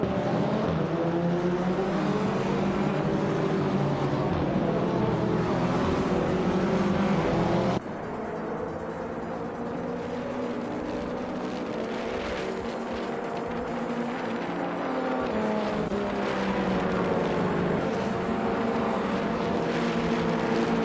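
Race cars roar through a video game race in a continuous loud engine drone with shifting pitch and layered passes, unbroken and without voices.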